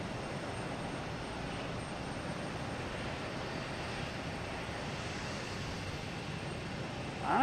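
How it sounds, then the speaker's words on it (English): A JetBlue Airbus A220 arriving at Boston Logan from Chicago gives a steady, even engine roar that holds at one level throughout, with a slight swell right at the end. "we have JetBlue here coming in from Chicago, an A220"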